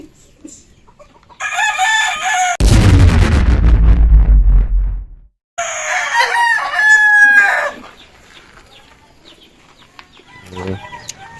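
A rooster crows loudly and close by, with chickens clucking around it and a second crow following; fowl noises continue faintly afterward.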